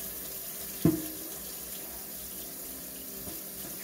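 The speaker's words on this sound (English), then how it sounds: "I'm just rinsing off my cutting board, because the cilantro gets very messy sometimes" Tap water runs steadily into a sink to rinse a cutting board, a continuous close splashing flow with one brief knock of the board near the start.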